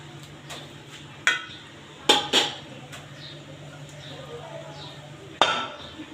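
Pabda fish are dropped one by one into a pan, making several distinct sharp clinks and clatters spaced apart, close and fairly quiet over a low steady hum.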